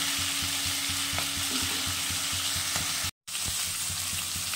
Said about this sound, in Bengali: শিমটা ভাজা ভাজা হয়ে গেছে।